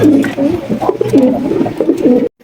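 A pair of big white Lakha pigeons coo close by in loud, repeated rolling phrases that stop abruptly at the end.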